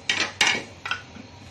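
A spoon scraping and knocking in a karahi as salt, chilli and coriander powder are mixed into mutton, three sharp metallic clinks with brief scrapes, close and alone.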